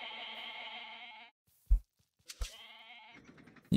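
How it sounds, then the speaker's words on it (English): Goats bleat in the Age of Mythology video game, a sustained harmonic bleat for over a second followed by soft thumps and another short bleating call, clear and alone with no talk. "Old man is stealing my goats!"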